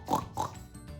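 A human voice imitates a pig's oink with two quick nasal grunts in a row, fairly close and soft, followed by a brief fading trail.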